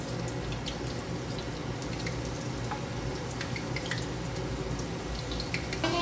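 Potato fries sizzle in hot oil, a steady dense crackle and bubbling hiss that stays close and even throughout, with no voices.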